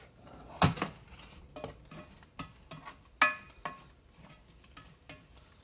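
A spoon stirring chili with onions in a pot, a series of sharp scraping knocks against the metal at irregular intervals, some louder clanks among softer scrapes, nearby and without talk.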